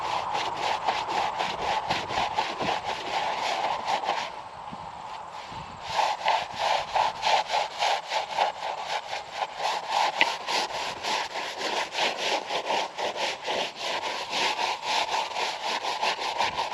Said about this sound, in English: A nice, foamy, soapy looking scrub.